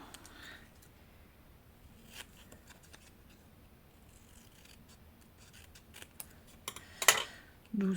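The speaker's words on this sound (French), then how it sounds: "On va prendre des ciseaux là." Scissors snip paper for a handmade Christmas craft card, a few short quiet cuts close by with light rustling, the last ones sharper and louder.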